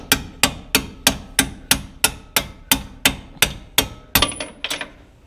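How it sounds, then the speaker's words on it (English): A hammer strikes a bolt out of a Ford Mustang GT engine mount, about fourteen sharp metallic blows at a steady rhythm, close and loud, with the last few coming faster and ringing. "hammer this bolt out, and hammer this bolt out."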